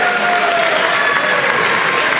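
An audience at a Provençal community event applauds local associations, including a melon brotherhood and a Provençal traditions society, with steady dense clapping that fills the whole stretch at close, loud level, no voices above it.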